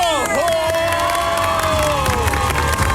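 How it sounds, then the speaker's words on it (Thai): A large TV studio audience screams and cheers loudly, with high-pitched shrieks rising over a sustained roar of excited voices. "ผมอยากได้ยินเสียง กรี๊ดดังสนั่นห้องส่งเลยครับ"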